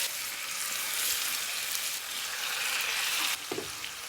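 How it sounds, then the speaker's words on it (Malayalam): Chicken frying with spices in coconut oil gives a steady, dense sizzle that fills the whole stretch without a break, with a brief stir or clatter near the end. "പിന്നെ നമുക്ക് ഈ ചിക്കൻ ഇട്ട് വറുത്തെടുക്കാം."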